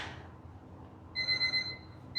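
A workout interval timer alarm sounds partway through, a short run of quick high electronic beeps over a quiet background with no talking.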